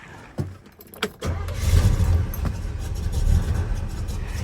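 A few clicks and jangles, then a supercharged Oldsmobile car engine cranks and catches, settling into a loud, rumbling idle close by.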